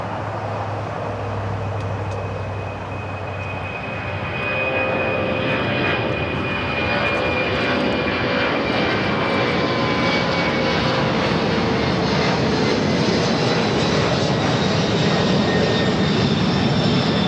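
An Air DHL cargo jet bound for Cincinnati roars steadily at LAX, its engine noise loud and sustained with a rising whine as it passes and climbs away.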